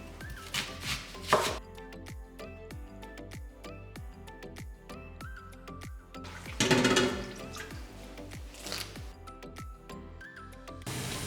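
A knife slices bitter lemon into rings on a board in quick, regular chops, each stroke a crisp close tap, with a brief burst of running water partway through and no voices.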